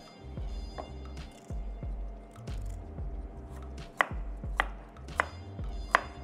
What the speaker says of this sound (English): Chop some onions.